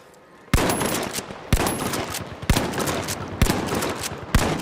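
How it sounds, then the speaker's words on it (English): Bursts of rapid automatic gunfire from the video game The Finals sound close and loud, five sharp volleys at a regular pace with short gaps between them. "And then they're just shooting us from across the roof."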